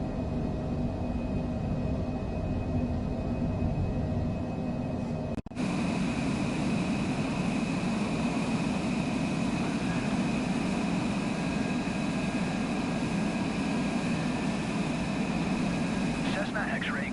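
The Cessna engine in Microsoft Flight Simulator 2024 holds a steady, continuous drone throughout, with a brief dropout early on before the even hum resumes.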